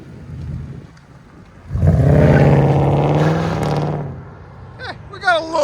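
A 2004 Mercury Grand Marquis with a 4.6L V8 and Dynomax Race Bullets exhaust pulls away after a quiet start, its loud, close engine note rising and holding for about two seconds before fading, with brief voices and rustling at the end.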